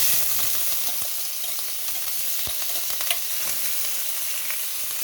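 Garlic and ginger paste sautéing in a pan with mustard seeds for a mackerel (ayala) fish curry: a continuous bright sizzle, broken by scattered pops and light stirring knocks.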